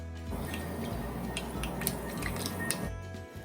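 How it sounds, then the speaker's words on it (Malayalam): One teaspoon of mustard seeds hits a tablespoon of hot oil in a pan, giving a dense, steady crackling splutter with sharp pops. "ഇനി ഇതിലേക്ക് 1 ടീസ്പൂൺ കടുക് ഇട്ട് കൊടുക്കാം."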